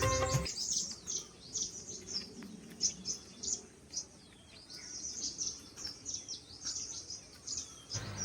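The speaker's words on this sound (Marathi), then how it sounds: "हा पक्ष्यांचा आवाज ऐका" Many birds chirp and tweet in quick, repeated bursts throughout, fairly close and bright, over a quiet outdoor background.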